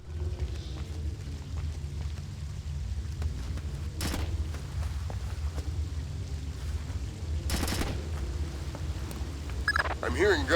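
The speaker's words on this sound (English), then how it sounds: "I'm hearing gunfire down there" Distant gunfire in Splinter Cell: Chaos Theory, two muffled bursts of shots breaking through a low rumbling ambience, with a voice speaking at the end.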